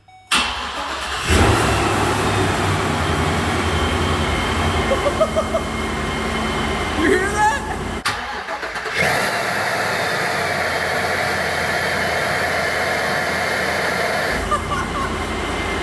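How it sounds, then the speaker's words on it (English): A van engine fitted with a Procharger supercharger cranks and catches, then runs loudly at a high idle with a few revs and a brief dip, up close; a voice speaks briefly. "First start with the Procharger."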